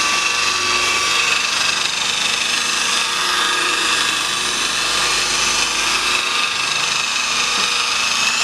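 Power polisher spinning on car paint while spreading polish during scratch repair, a loud continuous whirring motor drone held steady throughout.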